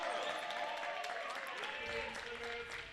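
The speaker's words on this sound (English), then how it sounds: "Listen how the crowd celebrated." Crowd at an EGCA Champions League match in Barcelona cheering a goal for Catalunya, a steady roar of voices and applause filling the space throughout with no let-up.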